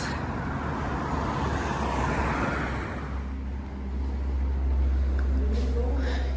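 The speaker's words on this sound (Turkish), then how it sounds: "Çok araba sesi var." Road traffic rumbles past on a street in Ereğli, a steady wash of car noise with a louder vehicle swelling by near the end, while someone nearby talks over it.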